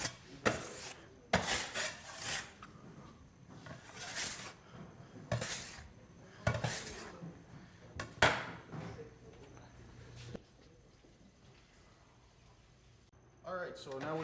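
Dough being scraped off a work table during a patisserie class, heard as repeated close rasping strokes in bursts with pauses between them, followed by a quieter stretch and a final scrape.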